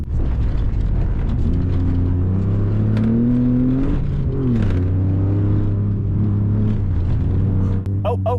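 A sports car engine on a track drones loudly and steadily, its pitch dipping as it brakes, then rising again as it accelerates, with a voice speaking briefly over it.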